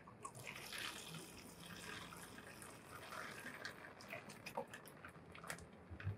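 Water poured onto freshly planted bell pepper seeds in a repurposed orange juice bucket, a soft, steady trickling and splashing that stays quiet and continuous throughout.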